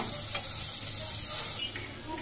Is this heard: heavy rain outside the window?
no